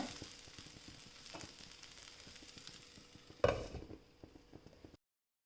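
Bitter gourd fries in a covered pan: a faint, steady sizzle with scattered small crackles and pops, then a sudden louder rattling clatter just before the sound drops away.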